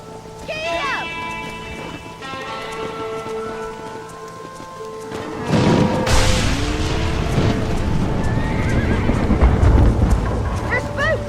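Spooked horses in the Red Dead Redemption video game, with several high neighs up front and then a loud rush of running hooves mixed with rain, under shouting voices.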